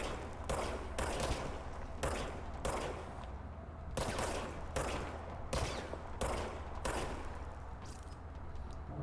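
Repeated gunfire from a gun with infinite ammo in the video game Control, about nine loud shots in a steady uneven rhythm over a low rumbling background, with no talking.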